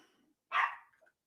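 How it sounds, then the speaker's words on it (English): A single sharp dog bark rings out at a moderate distance, brief and isolated against near silence, with a faint trailing yip after it. "Oh, the dogs are barking."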